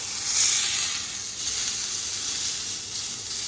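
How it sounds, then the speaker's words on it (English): A burger patty fries on a hot grill with a steady, close sizzle, a soft hiss running throughout and no talking. "Flip the burger."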